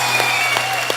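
Studio audience applauding for a singer on a comedy show, a dense steady wash of clapping, loud and continuous through a single second.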